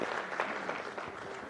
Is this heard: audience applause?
yes